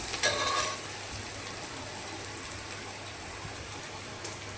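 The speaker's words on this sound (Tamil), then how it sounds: "நல்லா பொன்னிறமாக வதங்கிடுச்சு" Onions sizzle and crackle steadily in a hot pan while being sautéed golden for tomato rice, with a brief louder stir near the start and no talking.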